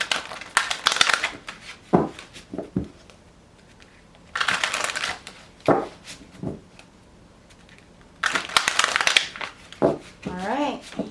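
Tarot cards shuffled in three bursts of crisp riffling and flicking, each a few seconds long and separated by quiet gaps, with a voice briefly talking near the end.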